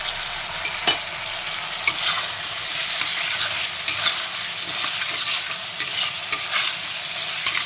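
Spice paste fries in a pan for a capsicum and paneer curry, with a loud, steady close-up sizzle broken by repeated scraping strokes of a spoon stirring through it.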